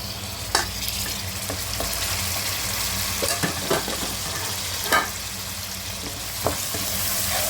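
Chopped tomato and lightly fried onion sizzle in a pan while a utensil stirs them, giving a continuous frying hiss broken by several sharp scraping clicks and knocks.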